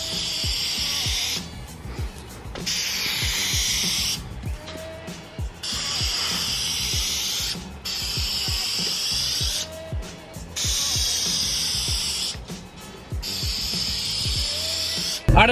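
Bursts of hissing spray from a paint gun laying clear coat, several passes of a few seconds each, with a compressor hum and clatter running underneath.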